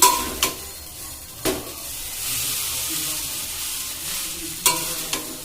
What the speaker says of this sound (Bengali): এবার হাত দিয়ে আমি নাড়িয়ে নেবো আর মিশিয়ে নেবো সব কিছু দিয়ে